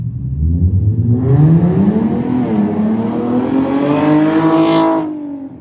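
Infiniti G37 with a VQ engine and full exhaust revving hard, a loud, rising wail that climbs steadily for about four seconds before cutting off, with no talk over it.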